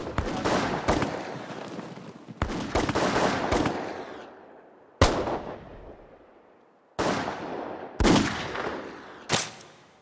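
Execution volleys from a Korean War firing squad, heard as a string of loud, close, cracking shots in irregular clusters, each trailing into a booming echo and fading between bursts.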